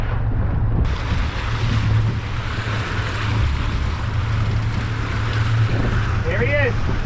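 Waves slap around a small fishing boat out on open water, a steady wash of surf and wind noise close by the hull, with a brief burst of voices near the end.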